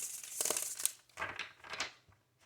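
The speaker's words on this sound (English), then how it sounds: "Okay, this is the last shuffle." Tarot cards are shuffled by hand in a few quick, papery bursts of riffling and crinkling, close and quiet with no talk over them.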